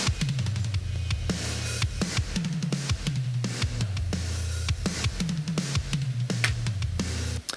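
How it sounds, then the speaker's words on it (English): Drum kit groove heavily squashed by whole-kit parallel compression, thick sustained kick and snare with bright cymbal splashes, dense and pumping, no talking. "we have a whole kit parallel compression here"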